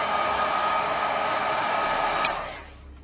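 Heat gun blowing a steady loud hiss of air onto the bottom of a water-damaged Samsung Galaxy S6 during repair, then cutting off and fading near the end.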